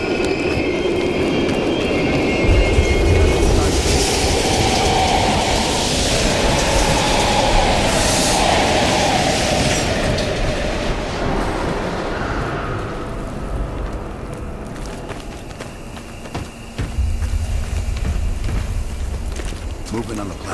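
A train rumbles past in Call of Duty: Black Ops Cold War, a continuous loud roar with rattling wheels, while a voice talks over it before the sound thins out.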